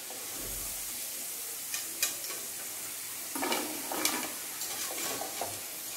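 Potato pieces frying in hot oil for potato chilli, a soft steady hiss and crackle with a few louder bursts of bubbling as they are moved, fairly quiet and with no talk.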